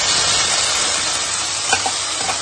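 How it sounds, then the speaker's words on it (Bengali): Pasta frying in hot ghee for a milk-based pasta kheer gives a steady, close sizzle and hiss throughout, with a couple of brief stirring scrapes near the end. "আর এবার পাস্তাটা ভাজবো"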